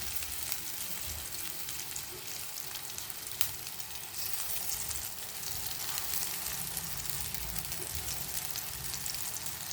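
Shallow frying in about two spoons of oil gives a steady, dense sizzle and crackle up close, with one sharp tap partway through and no talking.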